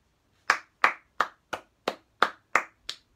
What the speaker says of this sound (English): Everybody clap with me